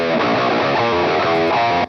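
Distorted electric guitar captured by two blended microphones with EQ applied, a dense sustained chordal passage ringing loud and continuous for about two seconds before cutting off.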